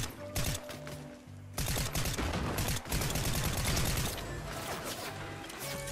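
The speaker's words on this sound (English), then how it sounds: "Oh shit, we're getting shot at." Rapid video-game gunfire rains in while under attack, dense volleys of loud shots in several bursts with brief pauses, a sustained firefight throughout.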